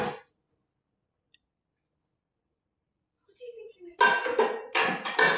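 Pots and pans clank and rattle in a short burst of close metallic handling near the end, mixed with someone talking over the clatter.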